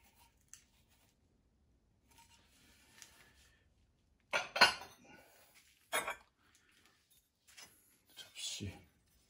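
Stoneware plates made from mixed clay, fired at 1250 degrees and being unloaded from a kiln, give a few sharp clinks and scrapes in separate bursts, with faint voices in the background.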